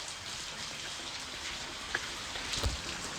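Rain falling in Patan, a steady even hiss of drops with a couple of faint knocks, fairly quiet and with no voices.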